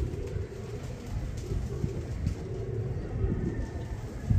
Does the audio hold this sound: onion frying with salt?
no